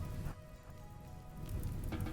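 Rain begins falling in the video game Resident Evil Requiem, a steady broadband wash of drops on surfaces that swells slightly louder toward the end, with no voices.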